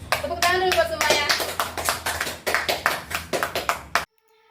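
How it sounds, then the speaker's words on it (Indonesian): Audience clapping hands at a school cultural presentation, a dense, close burst of rhythmic claps with a voice sounding briefly at the start, stopping abruptly just before silence. "Tepuk tangan dulu buat semuanya."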